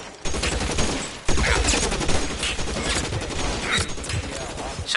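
Chaotic gunfire in the LA Noire video game, loud overlapping shots and heavy bursts cracking over a noisy firefight, close and sustained.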